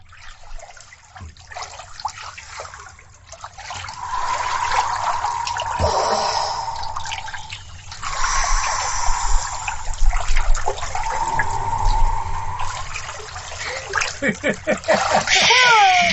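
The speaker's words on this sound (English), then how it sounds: "Just gonna be splashing." Prolonged water splashing and sloshing close by in a hot tub, swelling and easing in waves, with gurgling trickles and a few faint voices in the background.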